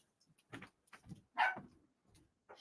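A dog barks several times in short, sharp bursts, fairly close and moderately loud, with brief quiet gaps between barks and no talking over it.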